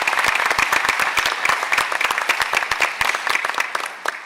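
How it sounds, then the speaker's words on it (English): An audience at a school board meeting applauds in dense, lively clapping that fills the room and tapers slightly toward the end. "If we could just give them a round of applause."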